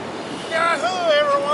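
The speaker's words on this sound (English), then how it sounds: "Beautiful, beautiful day on the beach." Steady broadband rush of wind and low-tide surf on a sunny beach during a bike ride, continuous throughout, with a voice talking over it in the second half.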